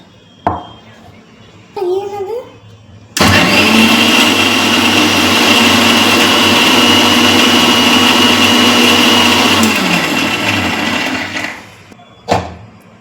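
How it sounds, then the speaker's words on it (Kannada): An electric mixer grinder blends curd with other ingredients in its jar for spiced buttermilk. A few short knocks come first, then a loud, close, steady whirring roar runs about seven seconds before winding down, with a brief clatter at the end. "ಈಗ ಇದನ್ನು ಮಿಕ್ಸಿ ಮಾಡ್ಕೊಂಬರೋಣ"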